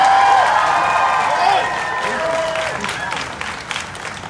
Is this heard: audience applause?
yes